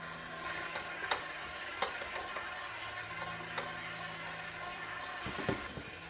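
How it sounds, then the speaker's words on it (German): Stand mixer kneading sourdough bread roll dough on speed 1, a steady mechanical whir with a low hum, broken by occasional soft thumps and clicks from the dough slapping the bowl. "Den Teig 5 Minuten auf Stufe 1 kneten."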